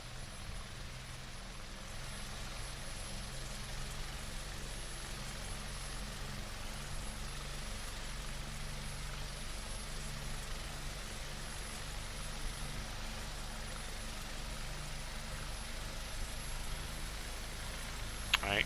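A simulated Huey helicopter in X-Plane gives off a steady, droning rotor and turbine hum as the rotor spins up, holding an even, fairly quiet level throughout with a brief bump at the very end.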